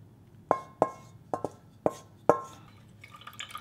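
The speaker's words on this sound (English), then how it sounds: "Only clear water is coming out." Clear water strains out of soaked glutinous rice flour dough through folded cotton cloth and drips into a container, six distinct plinking drops at uneven intervals, close and fairly quiet, with faint clinking at the end.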